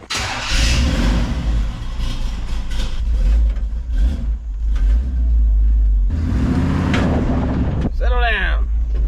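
A Chevrolet C10 squarebody truck engine cranks and fires, settling into a loud, steady low rumbling idle close by, with a brief rev and squealing sound near the end.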